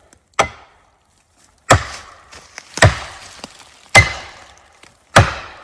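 Felling wedges are hammered into the cut of a tree during a bore-cut stovepipe felling. Five loud, sharp, well-separated strikes land about a second apart, each with a short woody ring, close by and with no talking.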